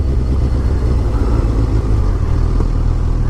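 A Suzuki GSX-R1000 liter-class sport motorcycle rides along a street, its engine giving a steady, loud, low rumble that holds even throughout, mixed with road and wind noise and no talking.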